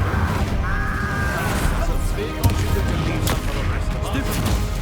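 An Incendio fire spell cast in Hogwarts Legacy during a troll fight, a loud burst amid continuous crackling battle noise with sharp impacts and a rushing whoosh throughout.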